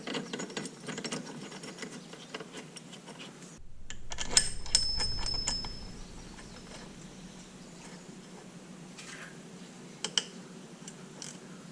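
Ratchet tightening bolts on the rear CV axle of a Polaris Sportsman 500 ATV, with rapid clicking pawl bursts, a short pause, then more close, loud clicking runs and a few sharp metallic knocks.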